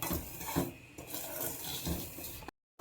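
Semolina being dry-roasted and stirred in a pan for uppittu (upma), giving a steady close scraping and rustling with soft sizzle, no talking, cutting off abruptly near the end.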